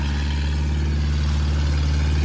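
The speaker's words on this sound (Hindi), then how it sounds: "भाई आपने कमेंट में बताना ट्रैक्टर कैसा चल रहा है" A tractor engine runs steadily, pouring out heavy smoke as it pulls hard, with a deep, even diesel drone that stays loud and close for the whole stretch.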